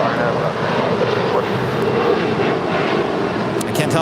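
An Alaska Airlines airliner takes off from runway 25 right at LAX, giving a steady, loud, broadband engine roar that holds throughout, heard from a distance across the airfield, with voices faintly in the background.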